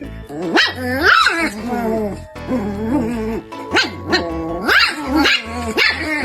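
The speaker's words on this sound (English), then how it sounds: "these puppies are having fun and playing with each other" Two puppies play together, letting out loud, close yips and barks mixed with playful growls. The outbursts come in uneven bursts, with short pauses between them.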